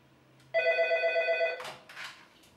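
A telephone rings at a helpline, one steady electronic burst of about a second standing out clearly, followed by brief rustling and faint noise.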